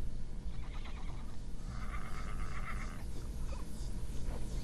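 A horse on a remote rural farm with mares that recently foaled gives a single whinnying neigh lasting about a second, heard over constant loud wind or field noise.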